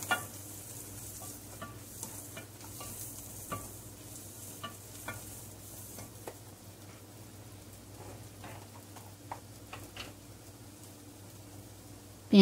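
Onions, ginger, garlic and cumin fry steadily in a pan with a continuous close sizzle, broken by scattered crackles and occasional stirring sounds.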